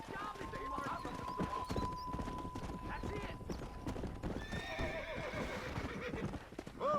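A horse in the Red Dead Redemption video game clip-clops along with steady hoofbeats and lets out a clear whinny near the end, while a voice speaks over the scene.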